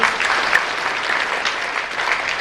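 At the 2012 World Fantasy Awards ceremony, a seated crowd claps after an award nominee is named, giving a full, continuous wash of applause with no voices over it.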